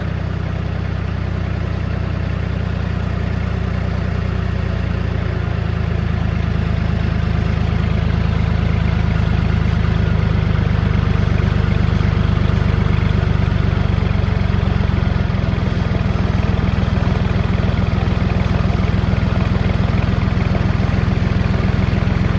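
A John Deere tractor engine runs at a steady, loud, low rumble that holds nearly constant for over twenty seconds, with a slight rise in revs partway through and no talking over it.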